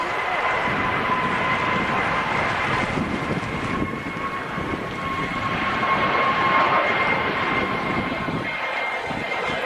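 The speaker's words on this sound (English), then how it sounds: "Oh no, that looks like a big commercial jet." A large commercial jet airliner climbs out in a strong headwind, its broad engine roar steady and loud throughout, with wind buffeting the microphone and a faint voice talking underneath.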